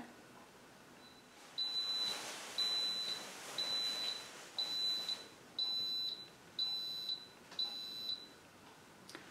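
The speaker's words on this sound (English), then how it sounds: "That beeping has told us that it's got to the end of the cooking time." An Instant Pot EVO pressure cooker signals the end of cooking with a series of short electronic beeps in regular bursts, about eight in all, clear and high-pitched over a quiet background.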